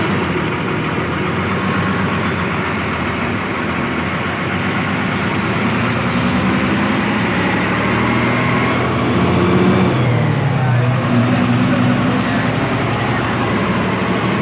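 An MSRTC Lalpari bus engine running on the journey from Tasgaon toward Atpadi, a continuous low diesel rumble heard from inside, with mild rises in revs and road noise throughout.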